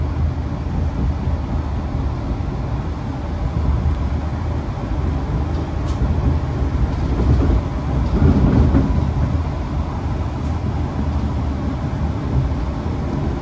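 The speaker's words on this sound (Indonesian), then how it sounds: "Papasan dengan kereta Bandara YIA dari arah Bandara Yogyakarta International Airport" A Yogyakarta International Airport rail link train passes nearby with a steady rumbling roar and faint rhythmic clatter of wheels on rails, swelling slightly midway, with no talking.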